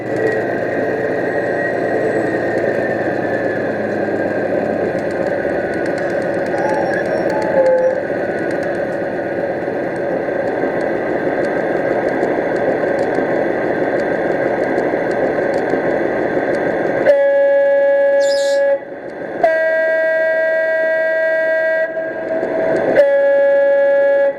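A Deltic diesel locomotive engine sound from a model train's speakers drones steadily, then shifts to a cleaner whine with rising and falling tones as it throttles down.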